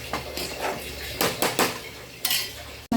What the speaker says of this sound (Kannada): ಮಿಕ್ಸ್ ಮಾಡಿ ಚೆನ್ನಾಗಿ ಫ್ರೈ ಆಗಬೇಕು.